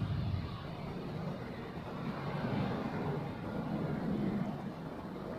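A MyFreighter Boeing 767 freighter from Tashkent on final approach to runway 14 at Zurich Airport, heard as a steady, distant broadband jet roar that holds an even level throughout.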